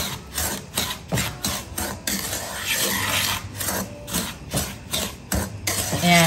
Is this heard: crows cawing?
no